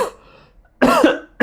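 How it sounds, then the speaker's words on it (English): A man coughs twice in quick succession, close and loud, with a short quiet gap before the second cough. "Sorry, I need to cough."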